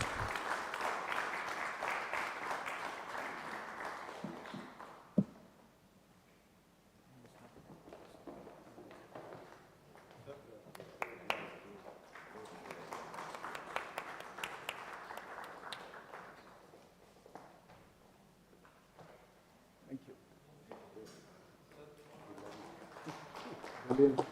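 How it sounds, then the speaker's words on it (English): Applause from a live event audience for a moderator and panel, a dense burst of clapping for about five seconds that then gives way to talk and scattered hall noise, with a second, quieter wave of clapping midway and a few more near the end. "please give them a big applause"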